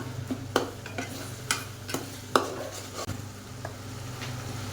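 Onions being stirred in a pan for a sardine fish curry, with a soft steady sizzle under a series of sharp spoon scrapes and clinks against the pot, spaced irregularly and close by, no talking.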